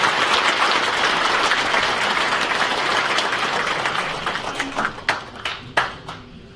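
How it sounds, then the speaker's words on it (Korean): A ceremony audience applauds loudly and densely in a hall, the clapping gradually thinning into a few scattered, distinct claps at the end. "큰 박수로 환영해 주십시오"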